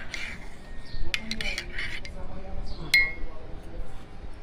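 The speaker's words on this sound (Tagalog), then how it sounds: "panoodin nyo kung paano ako magtimpla ng kape" A spoon stirs instant coffee in a cup, making a quick run of bright clinks against the sides and then a single sharper chink near the end, with faint room noise behind.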